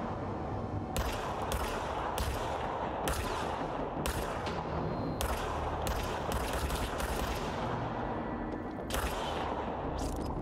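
Gunfire in the video game Control, with sharp shots coming in bursts and short volleys at an uneven rhythm over a steady background hum.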